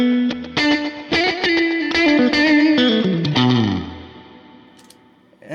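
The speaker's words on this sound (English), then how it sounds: "Beautiful reverb. It's like a slapback." Electric guitar picked through a reverb pedal set for slapback with vibrato, a run of close plucked notes and chords that thins out and decays into a quiet tail.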